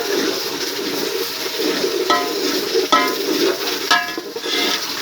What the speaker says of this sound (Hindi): अब इन सबको अच्छे से मिक्स करेंगे।